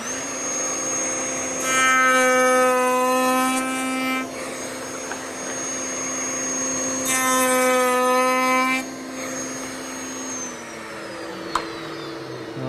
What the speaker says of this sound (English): We're going to cut the cope cuts for all of our muttons and mullions right here.